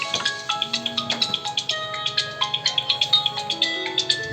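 Mobile phone ringtone playing a bright, tinkling electronic melody of rapid repeated notes, loud and close, heard alone throughout.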